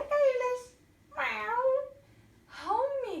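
A cat gives three separate close meows, each rising and then falling in pitch, with short quiet gaps between them.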